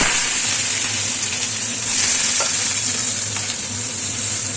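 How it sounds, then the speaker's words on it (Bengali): Chopped onion hits hot mustard oil with panch phoron, producing a loud, continuous close-up sizzle with occasional light scrapes of stirring. "পাঁচ ফোড়নটা ভাজা ভাজা হয়ে এসেছে আমি পেঁয়াজ কুচি এর মধ্যে দিয়ে দিলাম"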